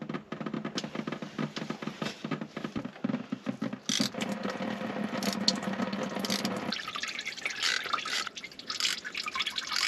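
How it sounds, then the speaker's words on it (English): Fluid drips and patters from a Dodge Ram Cummins diesel into a catch pan, an uneven run of close drops with a fuller trickle toward the end. No one speaks. "I'm gonna let this drain for a bit."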